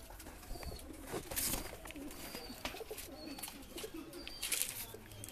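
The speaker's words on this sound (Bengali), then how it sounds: "এখানে লক্কার জোড়া, লক্কা এটা মেয়ে, এই ছেলে" Fantail pigeons coo softly in a low, repeated murmur, with faint chirps and rustling in the background.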